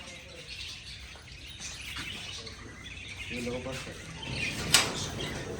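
Faint parrot and lovebird chirps and tweets scattered over a noisy background with distant chatter, including a sharper burst of calls near the end.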